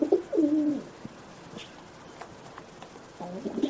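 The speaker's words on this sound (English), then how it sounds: "So yeah, feral pigeon." Feral pigeons at a dovecote give soft, rolling coos at the start and again near the end, with a quiet outdoor background and faint scattered sounds in between.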